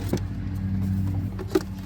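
A boat engine turning over on its first startup after battery trouble, giving a brief, steady low mechanical drone close by.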